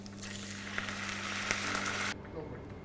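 Lamb stock hits a hot pan holding bones and rosemary and sizzles loudly, a steady frying hiss under a low hum that cuts off abruptly near the end, with no talk.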